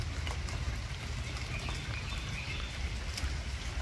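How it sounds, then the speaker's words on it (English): Steady rain falls outside on a farm, a dense, even hiss of drops on surfaces running throughout with no talk and no breaks. "It's raining out there and I didn't want to stand out in the rain."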